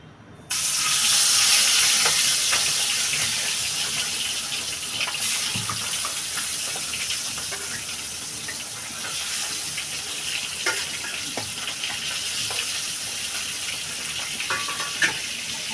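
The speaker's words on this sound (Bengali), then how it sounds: "তেলটা গরম হয়ে গেছে আমি এই মাছগুলো দিয়ে দেবো" Pieces of ilish fish, for a potato and green banana curry, go into hot oil in a pan, setting off a loud, hissing sizzle that settles into a steady close crackle.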